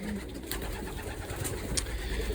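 Pigeons kept in a loft box coo faintly in a brief, noisy stretch of indoor ambience.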